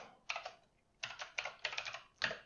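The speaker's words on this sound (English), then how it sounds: "And if me typing starts taking too long, I'm just going to start copying and pasting." Keystrokes on a computer keyboard while coding a C++ Qt timer connection, heard as close, crisp bursts of rapid clicking separated by short pauses, alone without talk.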